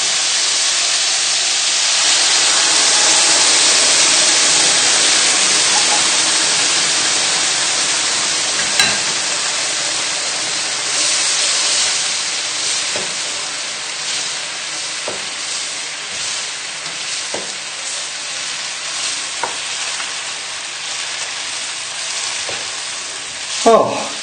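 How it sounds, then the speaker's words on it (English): Sweet and sour sauce poured onto frying chicken in a pan makes a loud, continuous hissing sizzle that slowly eases. Faint stirring clicks come through as it goes on. "we need to pour the sauce into the chicken"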